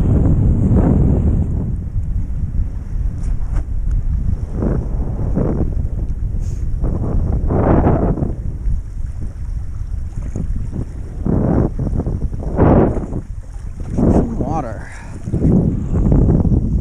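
Light wind buffets the microphone while kitesurfing on a foil at Spanish Banks, a loud continuous rumble with recurring gusty surges and water rushing beneath, no voices.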